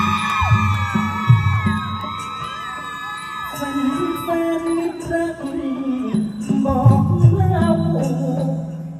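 A crowd of fans at a likay folk theatre performance screaming and shrieking loudly, high piercing voices rising and falling in overlapping waves, with some shouts and whoops.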